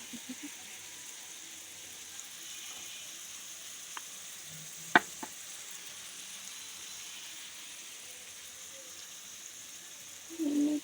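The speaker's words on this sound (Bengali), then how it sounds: "ওই চুলায় করলাটা ভাজি করে ফেলি" Bitter gourd frying in oil on a stove, a faint steady hiss of sizzling with a couple of sharp clinks from a utensil midway and a brief stir near the end.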